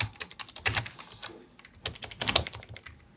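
Rapid typing on a computer keyboard at a terminal, close and clear, with irregular bursts of crisp key clicks, a brief pause midway, then another flurry of keystrokes.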